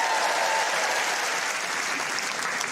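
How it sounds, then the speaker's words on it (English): A comedy club audience breaks into steady applause at a stand-up show, a dense wash of clapping from many hands that holds evenly for a few seconds. "Round of applause"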